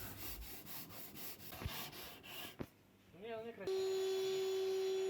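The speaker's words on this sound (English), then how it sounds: "More sanding." Repeated abrasive strokes rasp close by as sandpaper works a vintage 60s bass guitar fretboard. A brief voice cuts in near the end, then a steady high electric whine takes over.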